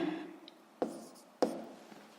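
Pen strokes on paper during a physics problem write-up, a few soft scratching sounds and two sharper taps, close and quiet with no talk.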